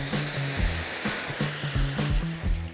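Cèpe mushrooms sizzle in a pan while being stirred, a steady frying hiss broken by rhythmic scraping strokes of the utensil, close and alone.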